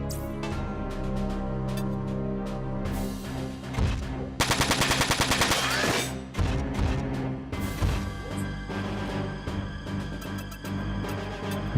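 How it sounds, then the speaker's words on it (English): Mech-mounted machine gun firing in the tactical game Front Mission 4: a rapid, evenly spaced burst of shots cuts through a continuous layer of game music, followed by scattered impacts and crashes. "Switch to your machine gun"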